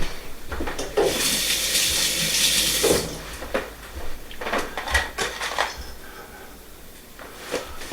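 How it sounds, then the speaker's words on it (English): A kitchen tap runs as hands are rinsed under it, a close, hissing stream for about two seconds, followed by scattered clicks and small handling knocks. "I do want to rinse off my hands a little bit."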